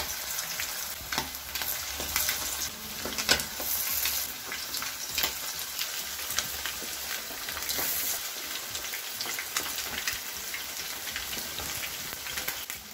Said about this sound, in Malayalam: എണ്ണ ലൈറ്റായിട്ടൊന്ന് ചൂടായതിന് ശേഷം ഈ ചിക്കൻ വിങ്സ് എണ്ണയിലൊക്കെ ഇട്ട് കൊടുക്കാം.